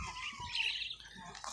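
Azure tits, small blue birds, calling at a bird fair, with bright high chirps and squawks close by over a busy background murmur.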